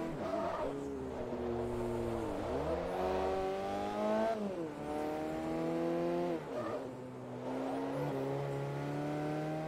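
Car engine on the Fujimi Kaido mountain road in Forza Motorsport 3, revving up and down through repeated gear changes, a loud near whine climbing and dropping, with music underneath.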